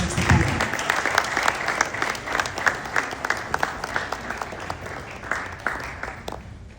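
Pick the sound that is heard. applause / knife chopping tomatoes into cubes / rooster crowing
applause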